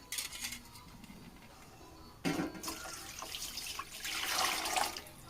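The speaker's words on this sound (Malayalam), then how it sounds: "ഞാനിപ്പോൾ അര ലിറ്റർ പാലാണ് ഒഴിച്ചു കൊടുക്കുന്നത്" Half a litre of milk poured into caramelised sugar in a pan, a quiet liquid pour that swells into a louder rushing, bubbling surge partway through, close by, with no talking.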